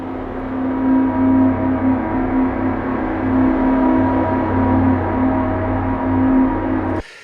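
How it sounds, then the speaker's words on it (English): A long synthesizer drone holds steady and loud, with a sustained low hum and layered tones and no break until it stops abruptly near the end. "Let's say you've got a long form sound like this drone."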